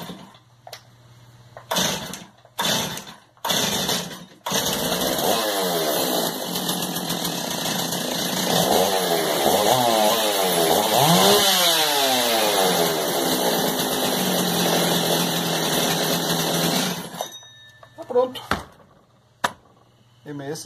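A Stihl MS 381 chainsaw engine sputters through a few failed pulls, then catches and runs loudly at a steady roar for about twelve seconds before cutting off.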